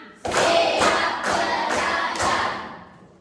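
A group of schoolchildren clap together in a classroom, five strong, regularly spaced claps close by that ring briefly before fading out.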